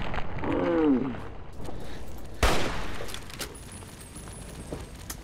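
Gunfire in Fallout 3, a sharp, loud single shot cracking out midway, with scattered smaller pops and clatter around it in an otherwise busy game soundscape.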